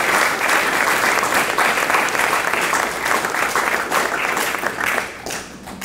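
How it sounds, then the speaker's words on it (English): A graduation ceremony audience claps loudly and steadily for several seconds, dense applause filling the hall before tapering slightly at the end. "Let's give them a round of applause."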